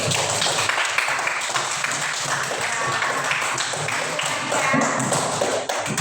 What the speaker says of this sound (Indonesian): Tepuk tangan buat Deski.